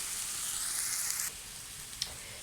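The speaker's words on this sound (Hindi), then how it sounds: "डालेंगे दही" Tomato and spice masala frying in a pan for bhindi masala, with a steady bright sizzle that drops off partway through as yogurt goes in, followed by a short faint clink; no talking.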